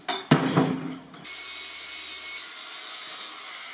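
A belt grinder working a sword blade gives a few sharp, loud bursts of grinding, then settles into a steady mid-level motor whir.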